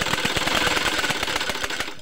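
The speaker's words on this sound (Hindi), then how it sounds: "देखो देख सकते हैं आप कैसे सिलाई हो रही है" A sewing machine runs in rapid, even clicking bursts while stitching a garment, close and fairly loud, with no talk.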